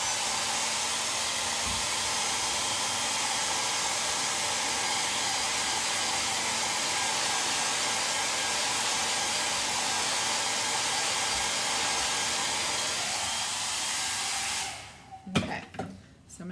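A hair dryer blows a steady, loud, close whoosh to dry ink on a custom shirt, then switches off near the end, followed by a few handling clatters.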